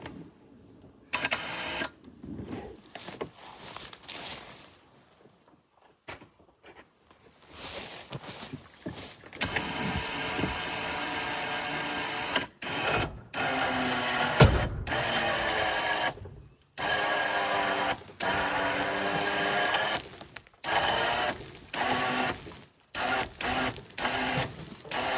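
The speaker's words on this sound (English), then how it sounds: "The engine is turning." An old engine that sat unused for 50 years is tugged with a pull-start and turns over, giving a run of dry, rhythmic mechanical clattering and scraping in bursts separated by short pauses.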